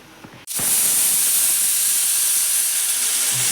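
A pressure cooker abruptly releases steam, a loud, close hiss that bursts in after a brief moment and holds steady to the end.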